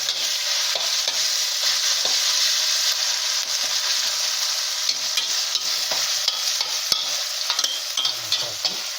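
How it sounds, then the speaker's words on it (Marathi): Green chili thecha sautéed over a high flame, a loud continuous sizzle close by with faint scraping and small ticks of stirring throughout, no voices. "ठेचा आता त्याच्यामध्ये घालणार. गॅस थोडा मोठा करतो आणि छान परततो."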